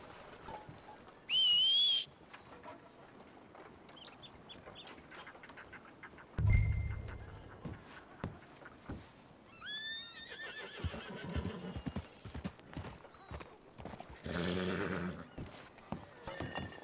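In a video game, a sharp whistle calls a horse, followed by loud neighing and whinnies, then a clip-clop of hooves and further short whinnies with bursts of game noise.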